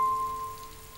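Steady rain falls outside, a soft continuous patter that holds at an even level for the whole moment, with a faint constant hum beneath it and no voices.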